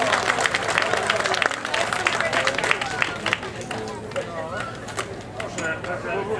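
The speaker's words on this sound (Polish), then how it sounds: "Wielkie brawa!" Audience applause and crowd noise for a third-place laureate at a Kraków dialect competition festival, a dense steady clapping that fills the room and slowly thins out toward the end.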